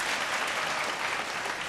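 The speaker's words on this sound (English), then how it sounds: "A round of applause, please, for Trends and Bargain Box." A live audience at a televised singing competition breaks into loud, sustained applause, a dense wash of clapping that holds steady throughout without any voices standing out.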